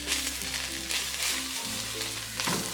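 Turmeric, chilli, coriander and cumin powders being stirred in a hot pan for chilli salan, with a steady close sizzle and frying crackle and occasional scraping of the spoon.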